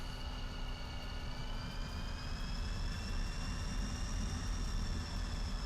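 Jet aircraft taxiing in a flight combat game, a steady engine whine with a slowly rising tone over a low rumbling drone, continuous and close with no talk.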